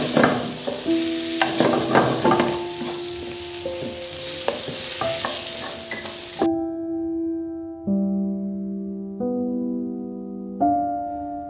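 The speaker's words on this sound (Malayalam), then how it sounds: "നമ്മുടെ ബ്രോക്കലി ഇട്ട് കൊടുക്കാം. നന്നായിട്ടൊന്ന് ഇളക്കി വേവിപ്പിക്കാം." Broccoli frying in a pan while being stirred, with sizzling and scraping strokes over the first half, then the pan quiets to a few steady tonal hums with faint frying underneath.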